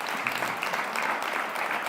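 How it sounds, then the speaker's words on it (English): Audience at an entrepreneurship forum claps for a departing panel, a brief, full burst of applause at steady volume. "Can you give them a round of applause"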